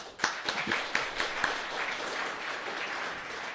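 Scattered audience clapping for author Sami Shah at a book talk, a few distinct claps up front settling into soft, distant applause.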